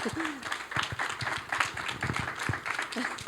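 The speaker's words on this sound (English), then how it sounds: "So give her a big clap" An audience claps for a woman after she finishes presenting at a talk on consciousness and healing; scattered, uneven claps come in bursts with voices mixed in, moderately loud throughout.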